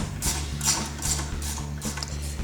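A ratchet tightening the lower unit bolts on a Yamaha F250 outboard in a shop, steady repeated clicking strokes up close, loud and even, with no speech.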